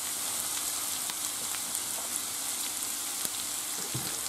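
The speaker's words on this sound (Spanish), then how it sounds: "se ha calentado el aceite y ahora echamos la cebolla" Chopped onion sizzles in hot oil in a pan, making a steady, even hiss with faint crackles throughout and no talking.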